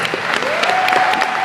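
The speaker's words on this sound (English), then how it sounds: "Give yourselves a hand clap." A live crowd claps together in steady, dense applause, close and loud, with no voices over it.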